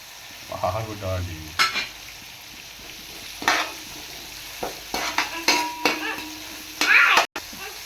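Green chillies and tomatoes sizzle gently in a pan for a biryani. Scattered stirring clinks and scrapes of a utensil against the metal come in short, uneven bursts, fairly close.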